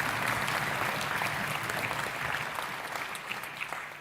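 Enthusiastic applause fills a state legislative assembly chamber during a Children's Day event, a dense, steady clapping from a large crowd that holds through and slowly fades toward the end, with no talk over it.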